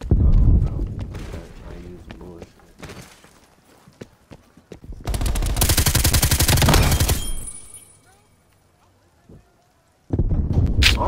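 Stoner light machine gun fire in Call of Duty Cold War multiplayer: loud rapid automatic bursts, one long sustained stream midway, with other shots and game sounds around it and someone talking over parts.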